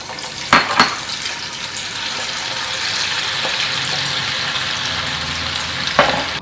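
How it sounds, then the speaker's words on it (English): Oil sizzling steadily in a hot pan, readied for butter and cut bread for croutons, a continuous close frying hiss with a few sharp pops and clinks near the start and end. "check if it's sizzling"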